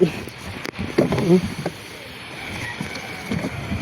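A small fishing boat moving on the sea, with soft splashes and lapping under steady wind noise and a few faint voices.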